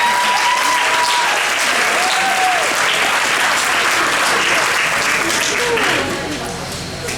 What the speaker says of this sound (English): let me get a round of applause for everybody right there